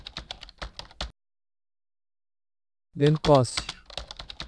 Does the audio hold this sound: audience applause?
no